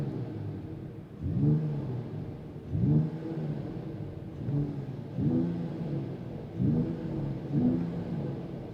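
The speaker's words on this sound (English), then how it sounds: "Now let's give it a few revs." From inside a 2022 Mercedes-AMG GT 4-door, the engine is blipped five times in a steady rhythm, each rev rising and falling back to a rumbling idle, close and fairly loud.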